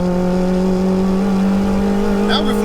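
A turbocharged 1-litre Nissan Micra engine holds a loud, steady high-revving drone under acceleration, with a faint whistle near the end.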